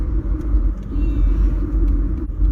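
An old classic car rolls past, a deep continuous engine rumble with road noise that stays strong and steady throughout, fairly close, with no talking.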